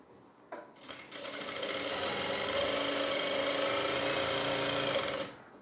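A sewing machine stitches a kurti in one continuous run of about four seconds, starting after a couple of faint clicks, humming steadily and close, then stopping abruptly.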